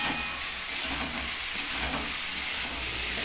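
Eggplant frying in oil in a pan gives a steady, fairly loud close sizzle and hiss, with a few faint clicks and stirring sounds and no voices.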